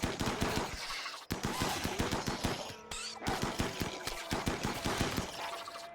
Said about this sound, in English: Then the first gunshot rang, followed by the explosion of all of their weapons firing in unison.